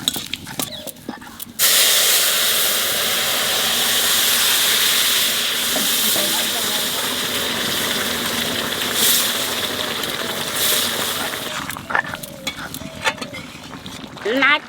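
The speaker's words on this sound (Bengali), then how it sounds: "তেলের উপর দিয়ে দেবো রাঁধুনি আর তেজপাতা।" Radhuni spice and bay leaves sizzle in hot oil in a home kitchen, a loud, steady frying hiss that swells in after a brief gap and keeps going for most of the clip, with a few clinks and scrapes near the end.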